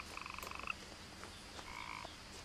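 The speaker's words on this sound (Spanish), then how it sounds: "aquí está sonando una rana" Frog croaks in What Remains of Edith Finch come in two rapid trilling bursts, a pulsing rattle followed by a smoother call, faint against a steady background hum.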